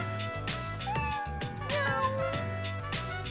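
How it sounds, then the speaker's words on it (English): A spotted white cat in a back alley in Persona 3 Portable meows a few times over rhythmic background game music, the cries short and rising. "Was that a cat's voice?"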